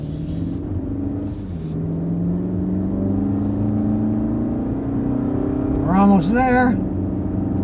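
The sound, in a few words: Toyota Camry engine accelerating on the road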